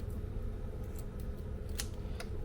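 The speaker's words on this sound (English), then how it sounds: "And you cut this little gut part off just with the scissors off the back." Kitchen scissors snip the gut off the back of a Washington coast razor clam, giving a few short, sharp metallic snips over a steady background hum.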